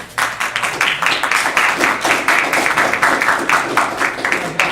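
Audience applause for a speaker wrapping up a farm finance session at a food summit, loud close clapping with an uneven pulsing rhythm that carries on for several seconds.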